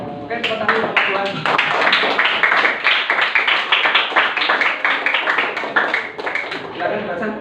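A group of students in a classroom claps hands together in quick, somewhat uneven bursts, a close, bright stream of claps with brief rhythmic swells, continuing for several seconds.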